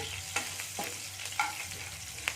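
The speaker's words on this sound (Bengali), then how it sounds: "দেখুন এখানে রসুনটাকে একটু ভেজে নিচ্ছি আমি" Chopped garlic frying in hot oil while being stirred, a steady soft sizzle broken by three or four distinct scrapes of a spoon against the pan.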